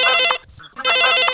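A telephone rings on a Hindi farmers' radio phone-in show about winter fish diseases, sounding as two loud electronic ring bursts separated by a short gap, with no talk over it.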